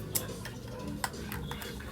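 A spoon stirs a Dubai chocolate style cappuccino in a cup, making a few sharp, light clinks against the rim over a faint, quiet background.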